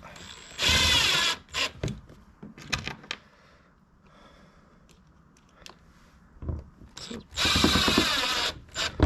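Screws being driven into a kayak deck hatch, with two long loud whirring bursts at start and end, separated by scattered clicks, taps and quieter handling noise.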